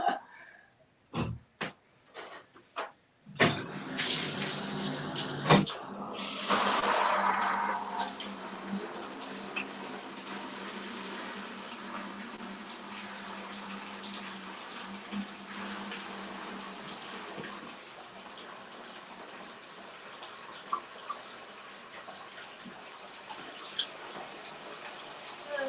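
Tap water runs for a 40-gallon aquarium water change, opening with a few knocks and clunks before the faucet turns on into a loud, steady rushing stream that settles into a continuous hiss for the rest of the stretch.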